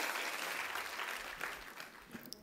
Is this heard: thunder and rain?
no